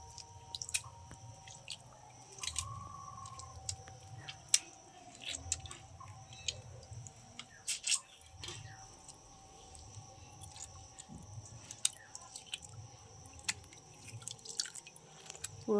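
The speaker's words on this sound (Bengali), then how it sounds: "লেবুটা জলের মধ্যে নিগড়িয়ে দিয়ে দেবো।" A lemon is squeezed by hand into a bowl of warm water, giving faint wet squishes and scattered drips in a quiet room, with soft pulses repeating every couple of seconds.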